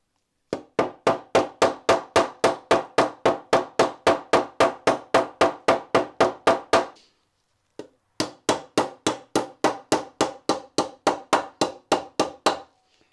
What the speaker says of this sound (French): le but est d'appuyer fort comme ça, et en même temps de marteler